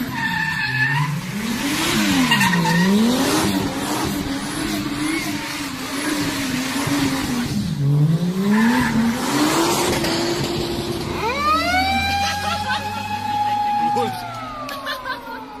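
A Toyota Soarer's engine revs and its tires squeal through long skidding street-drifting slides near a police car, loud and close, with revving pitch rising and falling; a speaking voice talks over it.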